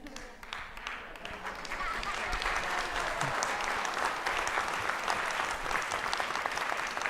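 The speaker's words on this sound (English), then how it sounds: "I've received more applause this week because of leaving than I have in the 3 years I've been here." Audience applause in a conference room after a presentation, starting thin and swelling within a couple of seconds into sustained, even clapping from a moderate-sized crowd, heard from a slight distance.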